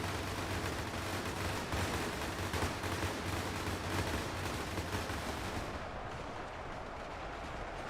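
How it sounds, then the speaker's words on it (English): Dense, relentless machine-gun fire from a large battle in Ultimate Epic Battle Simulator 2, loud and close, a continuous crackling barrage that thins slightly near the end. "The MGs are very loud when you get close to them."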